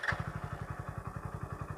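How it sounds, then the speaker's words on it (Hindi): A 2022 Hero Splendor Plus Xtec motorcycle engine putters steadily after starting, an even, rapid low thumping with a faint high whine above it, heard close and alone. "बाइक स्टार्ट करना ही पड़ेगा।"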